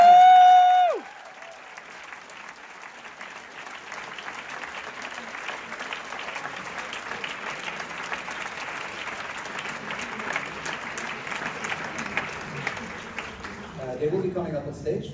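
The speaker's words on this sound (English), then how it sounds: "Give them a big round of applause." A large audience at a film event in Zurich applauds steadily and densely for filmmakers, loud sustained clapping following a brief tone at the start and continuing for the whole stretch.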